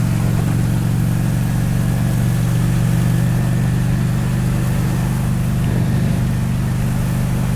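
A Honda 600 Shadow VT motorcycle engine idles steadily, a deep continuous throbbing rumble heard up close while riding, loud and unbroken with no voices.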